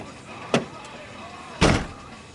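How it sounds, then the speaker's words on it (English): An Acura Integra car door swung shut after a hinge adjustment, two distinct solid thuds about a second apart, close and fairly loud, with a quiet room tone between. "Door closes nice."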